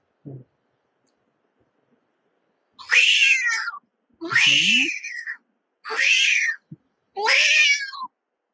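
Four harsh, snarling cat-like yowls, imitated by a human voice, come in separate bursts with short silences between them, loud and close.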